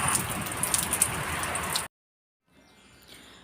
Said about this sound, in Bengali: এদিকে মুষলধারে বৃষ্টি নেমেছে